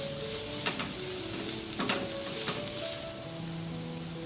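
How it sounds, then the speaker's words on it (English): Chopped onion and garlic sauteing in a pan over a medium flame, a steady close sizzle and hiss with a few scraping stirs, no voices. "We are now going to saute the onion and the garlic. We'll fry them until they turn a little brown."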